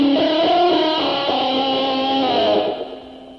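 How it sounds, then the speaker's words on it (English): Someone plays a distorted electric guitar with the vibrato bar pressed down and fluttered, producing a wavering, chirping, cricket-like tone that holds for a few seconds before dying away. "on that trick right there, we're doing what you call a vibrato flutter."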